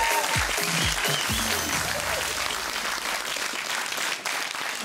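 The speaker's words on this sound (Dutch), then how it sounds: "Uw applaus voor Gay Charles." A studio audience at a comedy show gives loud, steady applause, with a short low musical sting at the start, the clapping continuing densely to the end.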